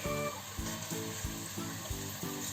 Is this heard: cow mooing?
no